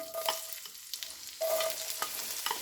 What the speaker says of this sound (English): I'm going to add in my onion to my Dutch oven.